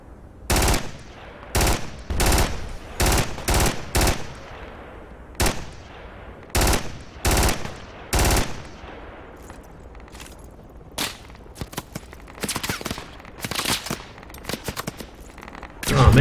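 Gunfire in the military video game Project Reality, loud bursts of rapid automatic shots in repeated volleys, then scattered quicker cracks, with no talking.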